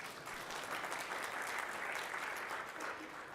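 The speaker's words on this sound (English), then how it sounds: "You guys can applaud if you want" Audience at the Build 2016 developer conference breaking into applause, a dense, steady patter of many hands clapping at moderate distance.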